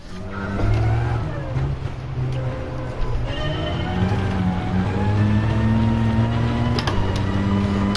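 A virtual car in Gran Turismo Sport accelerating out of a corner, its engine climbing through several rising pitch sweeps with a gear shift partway, steady and fairly loud throughout.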